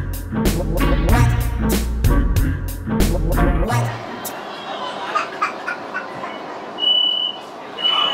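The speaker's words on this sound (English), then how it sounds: "time to get back on the subway" A subway train in Shenzhen, China rattles and clatters in rhythmic bursts, then fades into a quieter hum of the station with a few faint beeps and distant sounds.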